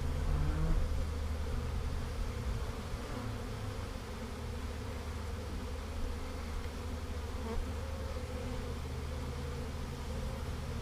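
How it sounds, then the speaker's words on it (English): Honeybees buzzing densely around a swarm being collected outdoors, a continuous, steady drone of many wings close to the listener, with no talk. "More bees."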